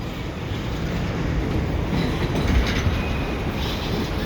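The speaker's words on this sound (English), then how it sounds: "There's the locomotives. It's a GP20CECO and a GP38-2." CP GP20CECO and GP38-2 locomotives back a cut of double-stack rail cars at the Lachine intermodal yard, with a steady rolling rumble, faint wheel clatter and occasional squeal throughout.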